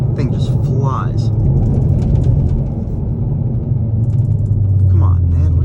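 A 2022 Hyundai Veloster N accelerating hard in second gear gives a deep, steady engine rumble from inside the cabin, with someone speaking over it.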